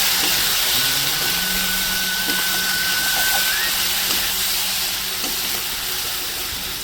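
Ground spices fry in a pan for a village-style vetki fish bone curry. A loud, steady broadband sizzle and hiss runs throughout, close up and with no talk.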